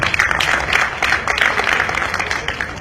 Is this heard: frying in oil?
no